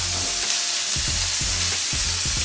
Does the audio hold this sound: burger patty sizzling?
yes